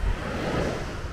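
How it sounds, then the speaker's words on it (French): Sea waves washing onto a Greek shore make a steady broadband wash with a low rumble, continuous and fairly near, with no voices. "Ah, le bruit des vagues, hein."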